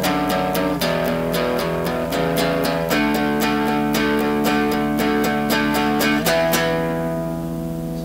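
Electric guitar closes a beginner rock riff with a run of evenly spaced picked notes, then lets the final chord ring out and fade, loud and close, with no talking.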